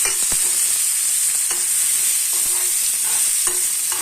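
A constant, close sizzle of onions sautéing in a pan, with occasional scraping taps of a spoon stirring.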